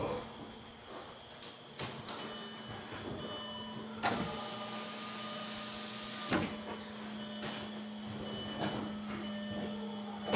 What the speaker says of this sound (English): I'm going to roll that window up now so I can finish putting it together.